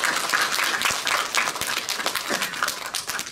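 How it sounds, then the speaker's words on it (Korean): Indoor audience clapping at a speech contest ceremony, crisp individual claps layered into steady applause that holds evenly for a few seconds. "다시 한번 감사의 박수 부탁드리겠습니다"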